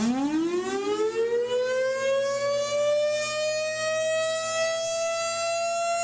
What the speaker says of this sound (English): First off, you have a single tone siren,